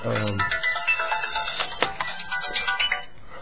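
A mobile phone ringtone plays a quick run of short electronic tones, fairly loud and close, rising out of a low hum and a few murmured sounds, and it goes on to the end.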